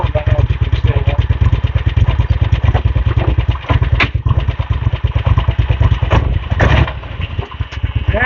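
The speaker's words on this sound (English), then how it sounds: "Starter sure sounds better." Engine turned over by an electric starter, then running with a loud, steady, throbbing motorcycle-like idle close by; faint voices talk beneath it.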